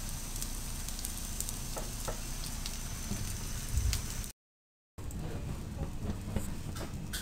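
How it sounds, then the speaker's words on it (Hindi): A Spanish omelette fries in a pan over a flame, giving a steady, dense sizzle and crackle with occasional soft pops, broken by a brief gap of silence before the frying continues. "एक मिनट के लिए इसको फुल फ्लेम पे पका के इसको आपने 5 मिनट के"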